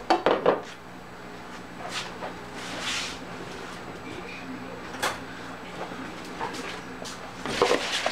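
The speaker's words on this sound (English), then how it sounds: "I am going to beat the butter until smooth" A fork beats butter in a bowl, clinking and scraping in irregular bursts against the bowl, moderately close, with quieter stretches between strokes.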